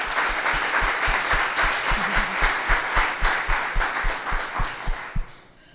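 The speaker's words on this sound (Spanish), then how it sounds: "Quiero que le aplaudan, por favor." A church congregation claps, first as a broad wash of applause, then settling into rhythmic, evenly spaced claps in time that stop abruptly near the end.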